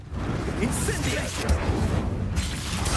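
A fiery Incendio spell blasts in Hogwarts Legacy combat, a dense roaring whoosh of flame and crackle filling the scene steadily for a few seconds with no talk.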